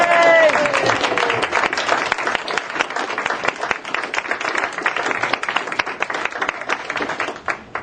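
Wedding guests applaud as a couple makes their entrance, a sustained crackle of many clapping hands that holds steady and fairly loud, then thins slightly near the end.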